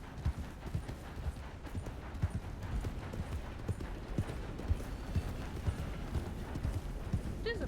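Horse hooves clip-clop in a steady, continuous rhythm in the video game Red Dead Redemption 2, close and clear, with a voice talking faintly over the riding.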